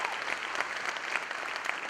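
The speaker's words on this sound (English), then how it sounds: "One more round of applause for Missy and Julia." Audience applause at a pageant, a steady dense wash of clapping from a crowd that holds at even strength for a couple of seconds with no talking over it.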